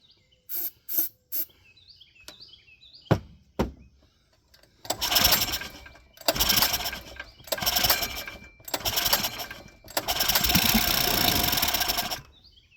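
A small engine is pulled several times with sharp rasping tugs, then catches and fires in loud sputtering bursts that run on steadily, close by.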